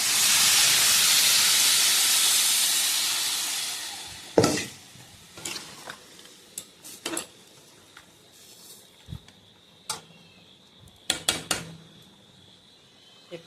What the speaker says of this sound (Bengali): কষানো হয়ে গেছে, দিয়ে দেবো জল।